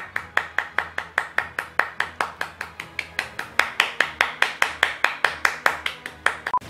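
Steady hand clapping, about four claps a second, close and crisp, running evenly throughout.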